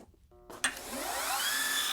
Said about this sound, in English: Using a bench grinder or a sander, hold the bolt at a 45-degree angle and just bevel the end.